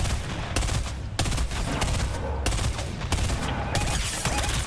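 Rapid video game gunfire in a hero shooter match, dense bursts of shots repeating in quick volleys with sharp broadband cracks across the whole clip, loud and close.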